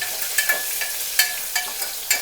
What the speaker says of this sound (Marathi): मिरची टाकली तिने मिरचीने टेस्ट हिरवी मिरची तडका मिरचीचा